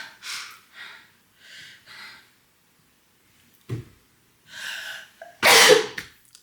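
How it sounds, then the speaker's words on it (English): A few quick breaths and a sharp intake build up, then one loud, close sneeze bursts out, followed by a short exhale. "Sorry, I gotta sneeze."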